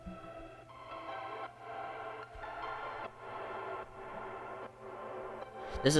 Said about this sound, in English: simplified version of it that is just drenched in reverb